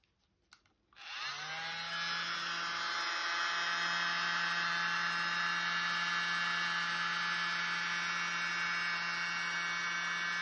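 Air blown across acrylic pour paint: a brief click, then a steady, even whirring drone that starts abruptly and runs without change to the end, with no talking.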